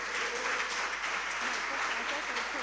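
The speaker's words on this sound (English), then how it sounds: "I want us to give all the contestants a round of applause" Sustained crowd applause from an audience at a school competition, a dense wash of clapping heard from a distance in a reverberant hall, with faint voices mixed in.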